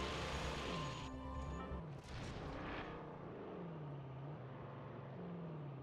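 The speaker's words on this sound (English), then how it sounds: "God, that car is loud." A loud car engine roars and revs continuously in the battle-royale video game Warzone, close and steady, its pitch sweeping up and down with a brief crash-like burst partway through.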